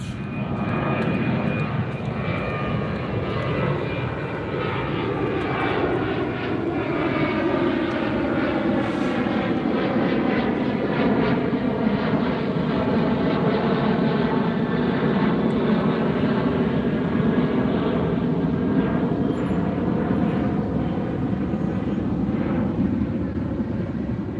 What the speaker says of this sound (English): We've got an American taking off on the right.